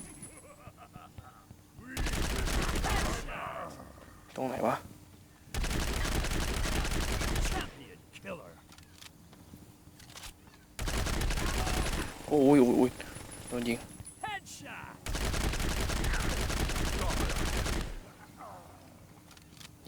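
Repeated long bursts of automatic gunfire in the mobile shooter Blitz Brigade, four loud sustained volleys separated by short gaps, with excited voices talking and shouting in between.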